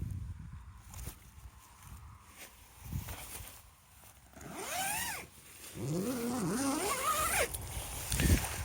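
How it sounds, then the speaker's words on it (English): Zipper pulled along the side of a large lightweight canvas Dutch pyramid tent, giving a few rising rasping strokes close by between quieter rustling. "can unzip the side as well, like this"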